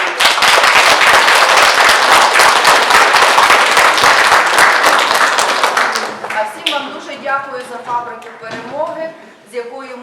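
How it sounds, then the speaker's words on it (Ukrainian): School audience at a courage lesson claps loudly and densely for about six seconds, then the applause stops and a voice begins speaking. "Тому я вважаю, що особливих оплесків"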